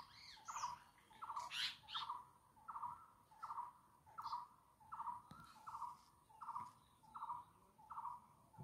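Birds squabble with harsh, repeated 'kyach kyach' calls in a rural setting, a steady rhythmic series of about a dozen scratchy squawks at even intervals, faint and somewhat distant, with a few higher chirps mixed in early on.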